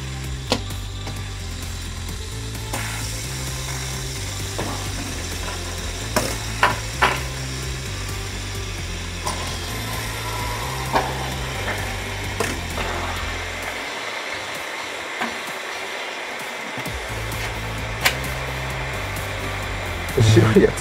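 Several fidget hand spinners whirring on a surface in a spin-duration contest, a continuous close mechanical hum with faint rattling and occasional small clicks, steady throughout with a brief dip near the end.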